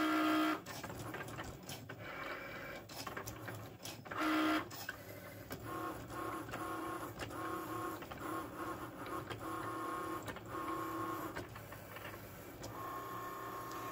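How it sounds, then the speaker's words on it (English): A Cricut cutting machine works through cardstock punching out small holes, giving steady mechanical whirring with rapid stepping motor buzzes and short bursts of motion as the carriage moves, close and continuous with no talking. "It's going to cut all the little holes out first."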